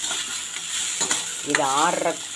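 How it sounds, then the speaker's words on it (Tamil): Grated coconut being stirred in a hot frying pan while preparing a traditional mango sambandhi, with a brief scraping stir and soft sizzling frying, close and fairly loud. "இதை ஒரு தடவை நல்லா மிக்ஸ் பண்ணிக்கலாம்."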